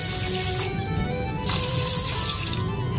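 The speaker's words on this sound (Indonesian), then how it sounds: "Masukkan air" Water runs from a tap into a pot for cooking nasi lemak rice, a steady, loud gushing stream that briefly pauses and resumes, with no talking.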